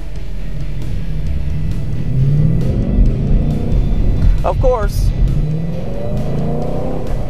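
A 2015 Ford Mustang GT engine revs and accelerates with a deep, rising roar, and someone speaks briefly over it.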